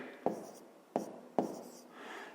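Pen or marker strokes on paper or a board while working out a fifth-grade fraction subtraction, three sharp taps of the tip each followed by a short scratching stroke, close and clear with no talking.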